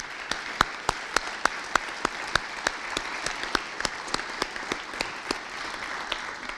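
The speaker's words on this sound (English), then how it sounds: "let's give our city a round of applause for all of the great things that have happened this last year" An audience at a city's State of the City event applauds, giving sparse, crisp individual claps in a steady rhythm over a soft background wash, fairly close and moderate in volume.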